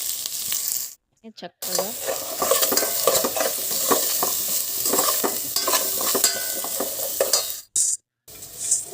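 Potato pieces sizzle and fry in a pan while a spoon stirs them with scraping, clattering strokes throughout, a short spoken word near the start and two brief quiet gaps in the sound.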